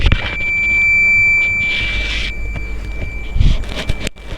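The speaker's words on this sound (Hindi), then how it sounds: "देखिए बजर ही बज रहा है।" A buzzer wired to a PIR motion sensor gives a steady, high, electronic tone for about two seconds, then fainter buzzing, handling clicks and knocks follow, with no speech.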